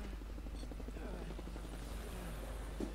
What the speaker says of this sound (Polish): nie podoba mi się ten odgłos helikopterów